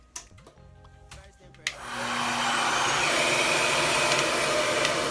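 A Revair reverse hair dryer starts after a few clicks and handling noises, then settles into a loud, steady whooshing roar of airflow and motor that holds evenly to the end.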